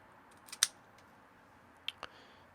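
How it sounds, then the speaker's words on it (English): A V-cutter snips the pigtail cap of a Foundry Bolivar cigar: one crisp, close click-snap followed by two fainter ticks, all alone in a quiet room. "I'm going to position it sort of lengthwise across the pigtail cap, make one clean cut, and I'm good."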